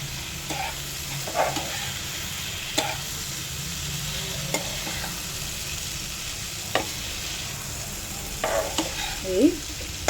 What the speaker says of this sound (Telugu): ఎరగకుండా జాగ్రత్తగా కలుపుకోవాలి ఈ గ్రేవీ అంతా ఈ ముక్కలుగా పట్టేలాగా కలుపుకోవాలండి